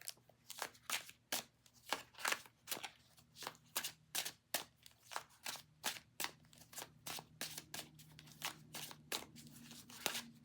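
A deck of tarot cards being shuffled close up, a rapid run of crisp riffling bursts repeating steadily with no voices.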